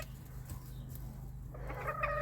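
Chickens in a coop on a small farm give soft, low clucks close by, faint and brief against a steady background hum, with a sharper cluck near the end.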